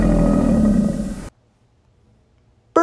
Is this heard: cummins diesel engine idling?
no